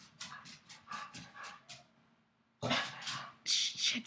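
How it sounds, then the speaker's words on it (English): Dogs whimper and pant in a run of short, rapid breaths, go quiet for a moment, then start up again louder and more agitated, heard close and alone. "I better go before the dogs start going crazy."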